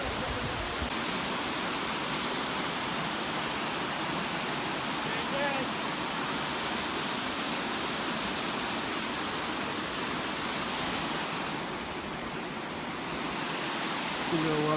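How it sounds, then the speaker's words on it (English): A small waterfall of glacier water pours steadily outdoors, an even, full hiss of falling water that holds unbroken from start to finish. "Cool little waterfall."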